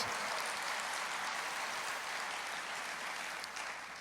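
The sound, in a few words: church congregation applauding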